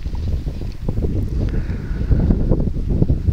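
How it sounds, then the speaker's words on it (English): Wind gusts over an open model glider competition field during an FAI F5J event in Kulmbach, Germany, a steady loud rushing roar buffeting the microphone throughout, with no talking. "had less wind today than yesterday, right now it's picking up again"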